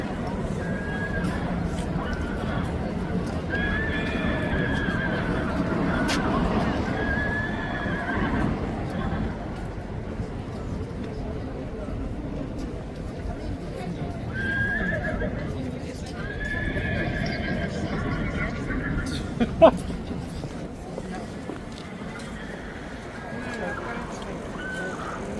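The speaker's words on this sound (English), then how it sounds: "He is playing the noise of horse on purpose." A horse recording played at full volume on a phone: repeated loud neighs and whinnies with clip-clopping hooves, outdoors near the Kingsguard, while people talk throughout.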